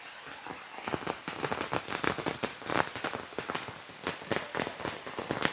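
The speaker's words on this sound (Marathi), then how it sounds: "पाऊस खूपच वाढत चाललाय" Heavy monsoon rain in a Konkan village drums steadily on a hard surface, with dense, irregular drop impacts and no let-up.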